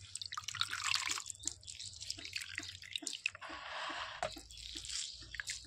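Water dripping and trickling off grated carrot being drained for pickle: irregular close patters and splashes with a brief steadier trickle midway, fairly faint and without talking.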